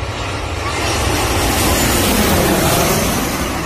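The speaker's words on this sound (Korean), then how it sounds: "비행기가 다가오고 있는데요" A fixed-wing airplane approaching to land at a spot in Busan roars loud and steady, a broad engine rumble that swells slightly as it nears, with no voices over it.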